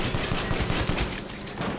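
Rapid automatic gunfire blasts in Resident Evil Village as zombies close in, a dense loud stream of shots with no talk.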